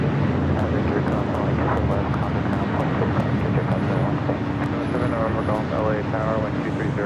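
A jet airliner in a special 'Honoring those that serve' livery takes off from the south side of LAX, a steady, loud, broad engine roar that persists throughout, with faint radio-like voices in the background.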